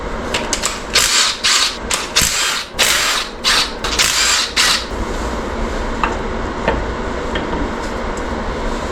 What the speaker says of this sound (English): I just loosened all the bolts for the oil pump to pull it apart